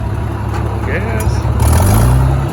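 An IH 706 tractor engine revs up under throttle while baling hay, a steady loud rumble that rises and swells near the end, with some voice mixed in.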